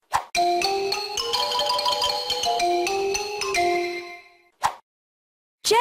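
Bright melodic xylophone notes in a quick tune over a steady backing, loud and close, ending with two short isolated knocks.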